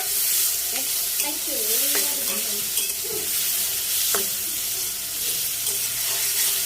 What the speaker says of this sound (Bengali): আমি ভালো করে আলু আর পেঁয়াজগুলো ভেজে নিচ্ছি।